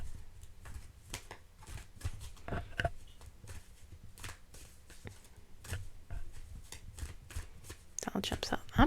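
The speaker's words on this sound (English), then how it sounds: "I'm shuffling a lot" Tarot cards are shuffled by hand in repeated soft riffling bursts and taps, close and fairly quiet, with a voice speaking softly between the card sounds.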